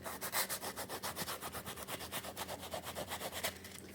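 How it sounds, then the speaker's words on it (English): Leather edges are rubbed with 150 grit sandpaper in quick, regular back-and-forth strokes, a soft rhythmic scratchy rasping of about six strokes per second, close and fairly quiet, with no voices. "I'm using 150 grit sandpaper, so I don't know if that's too rough and I need something finer."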